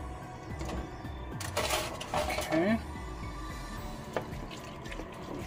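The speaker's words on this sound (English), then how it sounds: "I'm gonna transfer all this into this pan." Cooked food being moved from one pan into another in a home kitchen, with clattering metal pans and utensils scraping and clinking in bursts over a low background hum.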